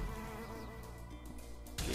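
Buzzing bees in the Sticky Bees online slot game, a steady insect drone layered under game music for the whole stretch, with a louder burst near the end.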